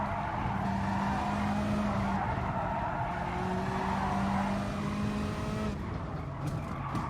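Race cars roar along a track in Gran Turismo Sport, an Audi R8 ahead, with engine drones rising in pitch and sustained tire squeals over a continuous loud rumble.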